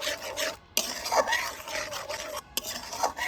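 Amul milk powder is stirred into milk with steady, close scraping and rasping strokes, interrupted by two brief pauses.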